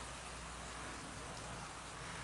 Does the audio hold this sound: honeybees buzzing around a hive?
no